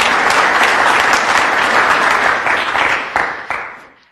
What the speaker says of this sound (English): big round of applause for Wendy Nather.